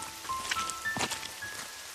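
Steady rain pattering and hissing over a surface, with a few faint tonal whines and a brief louder swish near the middle; no voices.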